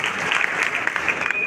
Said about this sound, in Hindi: तो एक बार इनके लिए भी तालियां बजाई जाए